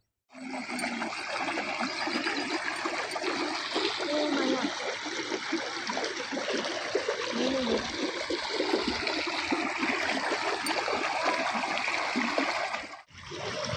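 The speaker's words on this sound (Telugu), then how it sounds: "చూస్తే ఒక చిన్న సైజ్ మినీ వాటర్ ఫాల్ లాగా ఉంది అది" Steady rushing water, like a small stream spilling over rocks, continuous and fairly close, cutting off abruptly near the end.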